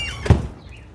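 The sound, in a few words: door being closed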